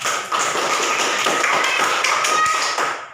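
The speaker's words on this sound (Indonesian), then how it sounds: "kasih aplaus untuk kita." Children in a classroom applaud together, a dense, steady burst of close clapping that runs for about three seconds before tailing off.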